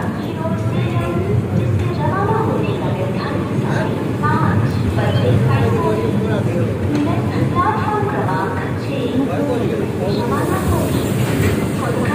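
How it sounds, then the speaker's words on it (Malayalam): Nilgiri Express passenger train pulling into a station on the Coimbatore to Mettupalayam run, a steady rumble of rolling carriages and platform commotion under continuous crowd chatter and nearby talk. "കറക്റ്റ് ഓൺ ടൈമിൽ തന്നെ ട്രെയിൻ എത്തിയിട്ടുണ്ട്."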